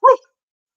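A human voice imitates a dog's bark with a single short, close woof that ends quickly in silence.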